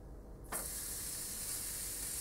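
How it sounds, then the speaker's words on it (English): A sharp burst of sizzling hiss starts suddenly and holds steady and loud as steak hits a very hot cast aluminium grill pan with no fat. "that sizzle just tells us we've got the pan good and hot"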